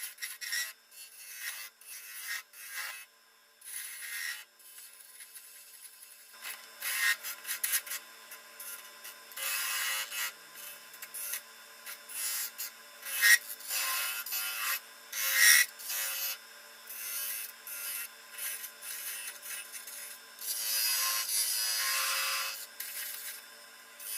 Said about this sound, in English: Now I've switched back to the spindle gouge to get in some of the more finer details.